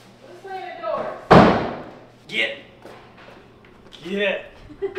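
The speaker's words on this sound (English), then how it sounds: "Let's slam the door." A door slams once with a sharp, loud bang during a renovation of an abandoned resort, with people talking before and after.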